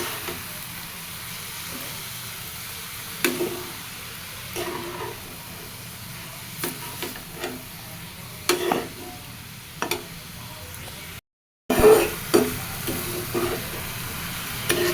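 Food with salt and turmeric stirred in a frying pan: a steady low sizzle runs throughout, broken by scattered scraping stir strokes and a brief dropout near the end, with no talking.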